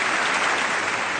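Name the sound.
applause for the Pope's speech in the US Congress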